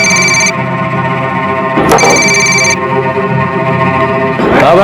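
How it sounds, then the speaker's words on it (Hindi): A telephone rings in repeated bursts of bright electronic tones, loud and close, continuing steadily with brief breaks over a layered background. "तभी पाक्या का फोन आया साहब मुझे"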